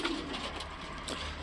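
Domestic pigeons cooing in a loft on a frosty sunny day; a short, close, low soft coo stands out over a steady background hum.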